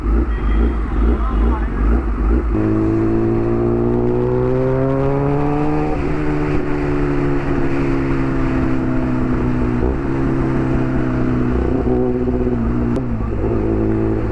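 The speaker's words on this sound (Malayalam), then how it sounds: "ശരിക്കും എക്സോസ്റ്റ് വളരെയധികം ലൗഡായിട്ട് തോന്നുന്നുണ്ട് കേട്ടോ" A loud vehicle exhaust roars during a group ride on the NH-66 highway, a close, continuous engine drone that climbs in pitch as it accelerates and then holds steady.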